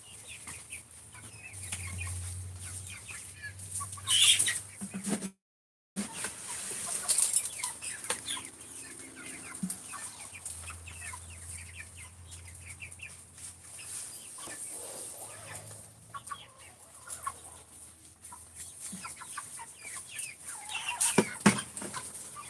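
Backyard chickens cluck and squawk in bursts, some close and loud, with a soft rustle and a brief dropout partway through, in a rain-soaked coop setting.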